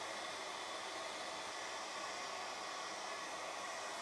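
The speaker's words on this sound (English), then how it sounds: "So all we've got is a hairdryer filling up this big plastic bag" A hairdryer blows into a large plastic bag, inflating it like a hot air balloon, giving a steady, faint broadband whoosh of air with no break throughout.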